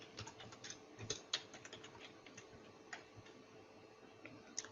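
Computer keyboard keys tapped while entering VBA code, with quick, irregular keystrokes in short bursts, quiet and close, with no voices.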